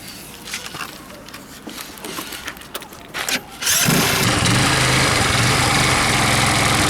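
Mondial 150 HS scooter engine with a newly replaced exhaust starts after some handling noises and settles into a loud, steady close-up idle that fills the rest of the clip.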